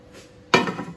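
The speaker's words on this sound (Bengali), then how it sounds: "আমি একটা তাওয়া বসাই দিচ্ছি" A tawa griddle pan set down on a stove, one sharp metallic clank at the midpoint followed by a brief ringing rattle, close and fairly loud after a quiet start.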